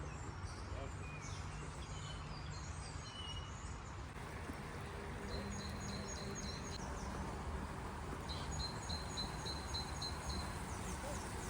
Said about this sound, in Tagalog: Narinig niyo ang mga ibon?